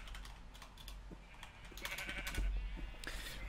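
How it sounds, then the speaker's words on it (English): Sheep bleat repeatedly in the Minecraft video game, several overlapping cries mixed with rapid computer keyboard typing clicks, fairly faint overall. "these sheep are freaking out my Minecraft right now"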